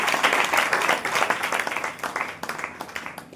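Congregation clapping hands together during a church prayer meeting, a fairly close burst of crowded clapping that thins out and turns into scattered, rhythmic claps toward the end.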